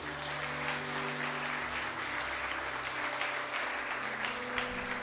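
A church congregation applauds steadily through a Holy Communion worship service, dense continuous clapping at moderate level with a low sustained organ or keyboard tone underneath.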